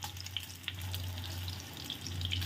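An eggplant omelette sizzles steadily in a pan as it is flipped, a continuous close frying hiss with a few soft scraping touches and a low hum underneath.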